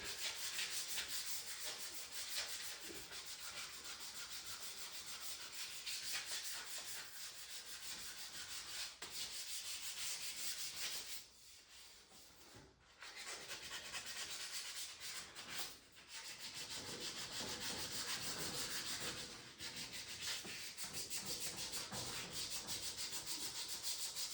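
Scrap sandpaper worked by hand during an old-school front-engine dragster restoration gives close, continuous rasping strokes that run for over twenty seconds with only a couple of brief pauses.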